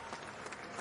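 A crowd clapping during a live-streamed countdown of top Raider football players, a steady dense patter of applause with faint voices mixed in.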